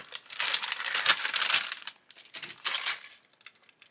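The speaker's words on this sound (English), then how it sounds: "We'll get this one cut open." Knife cutting open a plastic-wrapped pack of model kit parts for a 1:8 Ferrari 330 P4, with close crinkling and tearing plastic over a few seconds, fading at the end.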